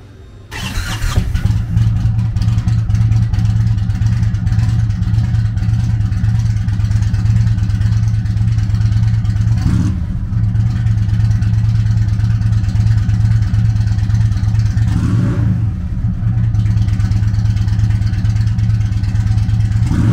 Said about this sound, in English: Powered by a 111 Thunderstroke V-twin motor, the Chieftain puts 119 foot-pounds of low-end torque through a 6-speed transmission.